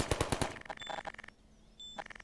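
Rapid automatic bursts from a turret in the Garry's Mod video game, a quick string of close, punchy shots at the start and then sparser clatter fading into quiet.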